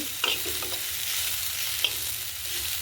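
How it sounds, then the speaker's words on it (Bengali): Burmese greens with grated coconut stir-fry in a village kitchen pan, a continuous frying hiss with a couple of light spatula scrapes, close and steady with no talking. "নারকেল কোড়াটা দিয়ে এতে একটু নেড়ে চেড়ে ভেজে নেবো।"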